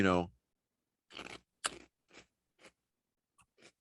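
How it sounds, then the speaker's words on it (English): Barbecue flavored pork rinds being eaten, several sharp crunches in an uneven rhythm very close to the microphone, following a brief vocal sound. "if you can hear me crunching in your ear, I'm eating barbecue flavored pork rinds"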